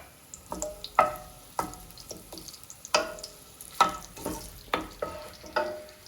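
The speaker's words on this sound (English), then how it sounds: "Half of the garlic, which is half of a whole garlic, goes into the olive oil." Garlic fries in warm olive oil for a Moroccan fish dish, giving a series of close, sharp crackles and spits at an uneven rhythm over a low hiss.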